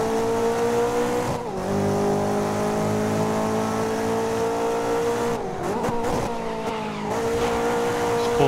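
Race car in GRID 2019 braking hard in fourth gear, a loud sustained engine drone that dips sharply as it slows, with tyre squeal and downshift blips near the end, close and continuous.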